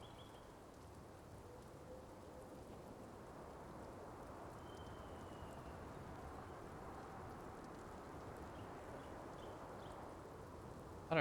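Rain falls steadily in a video game, an even, soft patter that holds with no break for over ten seconds, then ends with a brief sharper knock.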